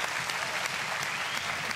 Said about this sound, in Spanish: Un aplauso, igual.